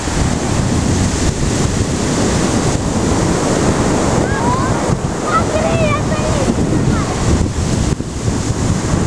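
Steady roar of surf breaking on a beach at Bari Sardo, Sardinia, with wind buffeting the microphone throughout; faint bird calls chirp briefly in the middle.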